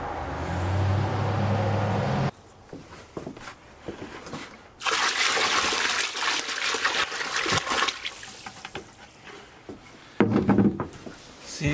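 Water pours into a 5-gallon bucket in several bursts, a steady rushing splash that stops and restarts, heard up close with no talking.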